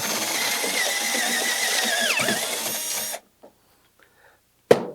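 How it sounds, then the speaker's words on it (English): A power drill with a 5/16 bit whines loudly and steadily for about three seconds while enlarging a rivet hole in an espresso machine, its pitch dipping briefly as it bites, then stops, followed by a faint click and a sharp knock. "we're using a 5/16 drill bit to adapt this hole to fit a rivet"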